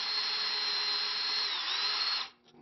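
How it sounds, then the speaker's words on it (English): A power drill bores through a part of a sequential pulse motor to shave off weight, a close, steady high whine running for about two seconds before cutting off abruptly. "You're taking some of the weight by drilling through it."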